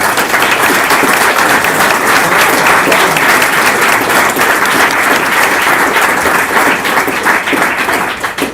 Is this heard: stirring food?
no